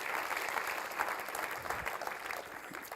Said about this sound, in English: that's actually an applause for you